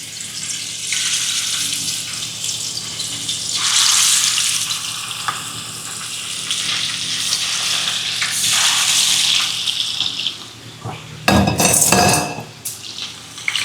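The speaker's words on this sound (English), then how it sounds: "Now place our salmon into the oil." Salmon fillets fry in hot oil, producing a loud, steady sizzle that swells and eases as the pieces are moved, with a few clanks of a utensil against the pan near the end and no talking.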